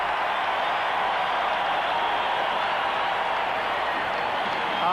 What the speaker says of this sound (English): That got the crowd up.